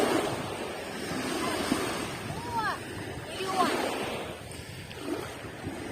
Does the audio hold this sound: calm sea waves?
yes